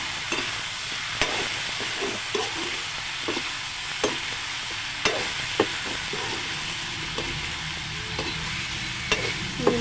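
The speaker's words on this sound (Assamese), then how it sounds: "এতিয়া অলপ লৰাই দিছোঁ।" Chicken pieces with salt, turmeric and spice masala sizzle in a pan while being stirred, a steady hissing fry broken by repeated spoon knocks and scrapes at an uneven pace.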